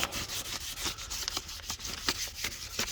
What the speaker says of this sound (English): with some water, and we're just gonna wet sand everything.